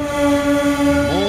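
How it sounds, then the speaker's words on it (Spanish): A freight locomotive horn sounds in Monte Caseros, Corrientes: one steady, loud two-tone blast holds for about a second, then bends downward as it cuts off. "Actualmente circula el servicio de carga para que la bocina de la locomotora siga despertando eternas nostalgias."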